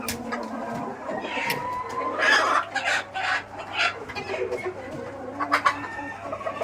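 Chickens on a poultry farm, with Sonali, Kadaknath, Aseel and Black Australorp birds, cluck in repeated irregular bursts close by over a low steady background hum, with some faint crowing mixed in.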